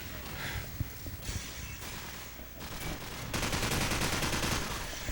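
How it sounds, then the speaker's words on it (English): Call of Duty: World at War gunfire, with scattered distant shots giving way to a loud, sustained burst of rapid automatic fire near the end, heard over game ambience. "So I'm getting shot at, rather"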